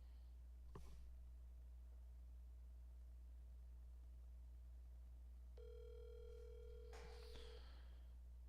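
Telephone ringing out on a call, a single tonal ring tone heard through the line for about two seconds, then a brief clatter, with a low steady hum underneath throughout.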